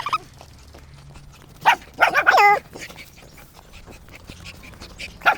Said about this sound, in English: Look, there are dogs, and there is a sign beware dogs.